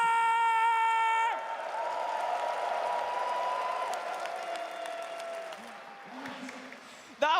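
A large arena crowd applauds and cheers at The International 2025 Dota 2 elimination match between Xtreme Gaming and Team Falcons. Sustained clapping and whoops follow a brief musical tone, then gradually fade.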